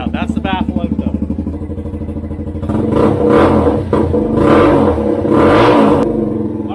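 A Suzuki VanVan 200 motorcycle with its exhaust baffle removed idles with a rapid, loud, popping thump, then is revved hard into a raw, blaring roar in two surges before settling back, close to the microphone.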